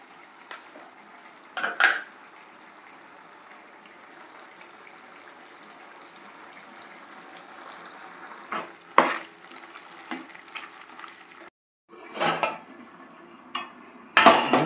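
Chicken pulao cooking in a pan, with a steady low sizzle throughout and scattered scraping stirs and clinks of a spoon against the pan, close and fairly quiet, with no talking.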